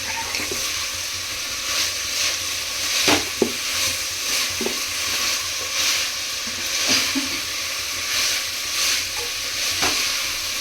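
Vegetables for a veg dum biryani frying in hot oil make a continuous close sizzle and hiss, broken by scattered soft knocks and scrapes as they are stirred, with no one speaking.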